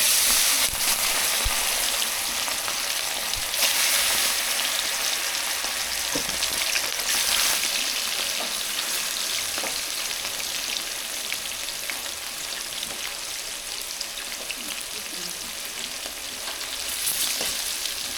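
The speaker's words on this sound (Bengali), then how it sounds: "এবার আমি চিকেনটা ভেজে নেব। তেল গরম হয়ে গেছে" Chicken frying steadily in hot oil, a dense, continuous sizzle with crackling bursts that holds at a fairly even, close loudness for the whole stretch, with no talking over it.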